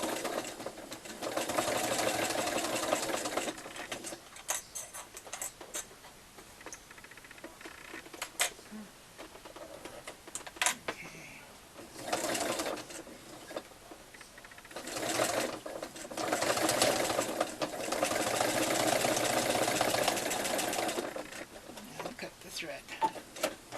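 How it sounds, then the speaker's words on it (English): A sewing machine stitches a fabric face mask in bursts of fast, steady whirring, pausing between seams while a person talks during the gaps and over the stitching. "And stitch down."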